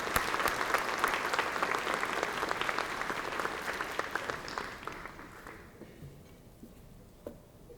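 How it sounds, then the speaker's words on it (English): Audience at a Central Carolina Community College award ceremony gives a full round of applause, dense and sustained clapping that gradually thins and fades out toward the end, with a few stray claps lingering. "a great round of applause"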